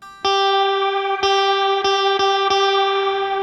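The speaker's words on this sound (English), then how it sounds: "that's pre, so it's applying some of that drive before the reverb" A Strymon Nightsky reverb pedal with pre-reverb drive adds slight saturation to a sustained synth-like tone; five sharp note attacks strike at irregular intervals, each ringing into a lush, continuous reverb tail.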